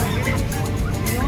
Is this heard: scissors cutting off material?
no